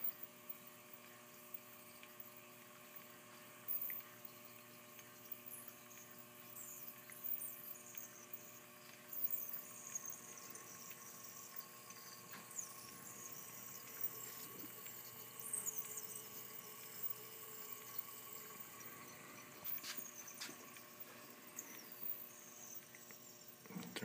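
A Lechler ultrasonic atomizer nozzle runs, spraying a fine water mist at about 14 inches of water pressure, giving a steady, quiet electrical hum and faint hiss with occasional small clicks throughout.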